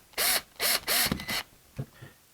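Screws being driven into a Kwikset 780 deadbolt: three loud, close bursts of whirring driver noise in quick succession, then a couple of faint clicks as the screws snug down.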